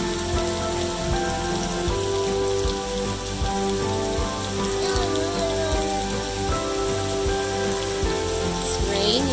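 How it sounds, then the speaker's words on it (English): Heavy summer rain pours down outside a house, a dense continuous patter of drops on surfaces with a constant, fairly loud wash and no break throughout. "It's raining so hard that water is just streaming past our house"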